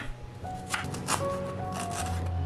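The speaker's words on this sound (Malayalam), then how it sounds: "ഇഞ്ചിയുടെ തൊലിയൊക്കെ ചുരണ്ടിക്കളഞ്ഞ ശേഷം ചെറുതായിട്ട് അരിഞ്ഞെടുക്കാം" A knife finely chops peeled ginger on a board for Kerala puli inji, making quick, crisp, irregular taps that come close together. The chopping is close and steady and no one speaks over it.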